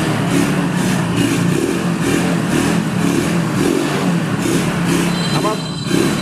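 A Hero Honda Passion Plus motorcycle engine runs steadily close by, a continuous buzzing thrum with no pauses, while someone talks over it.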